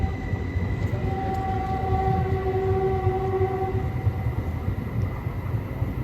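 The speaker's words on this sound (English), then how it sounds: "there goes your train off to Tamien, Caltrain number" Caltrain #630, a Stadler KISS electric multiple unit, pulls away from the station in Burlingame with a steady rumble. A rising tonal whine from the electric motors lasts a few seconds, then fades under the continuous rolling noise.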